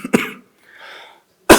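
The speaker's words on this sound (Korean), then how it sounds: "오늘 기침이 조금 있네요." A single adult coughs twice in quick succession, loud and close, followed by a faint breathy throat sound and then another sharp cough, during a Korean Won Buddhist scripture lecture.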